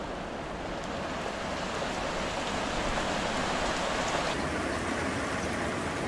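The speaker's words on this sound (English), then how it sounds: "I think it's raining a little bit. Yeah, it's raining" Light rain falls steadily around a sailboat anchored off Misool in Raja Ampat, Indonesia, a continuous soft hiss of drops that stays even throughout, with no one talking.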